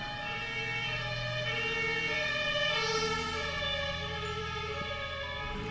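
An ambulance siren wails steadily as the vehicle drives past outside a window, its rising and falling tone loud and continuous throughout with a slight swell in the middle.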